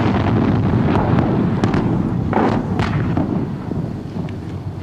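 Distant bombing of Norway by German forces, January 1940: a continuous low, heavy rumble with muffled thuds and faint cracks rolling on throughout, fairly loud and with no voices.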